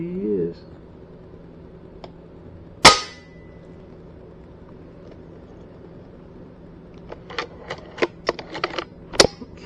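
A single sharp gunshot while squirrel hunting, loud and abrupt amid quiet woods with someone speaking softly, followed later by scattered clicks and another sharp crack.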